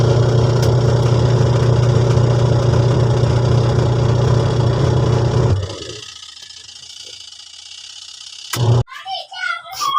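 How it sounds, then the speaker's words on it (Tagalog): A noisy washing machine with a faulty gearbox runs with a loud, rough droning whir, then cuts out abruptly partway through, leaving a faint hum and a brief clunk before a voice. "Sabi maingay daw yung makina."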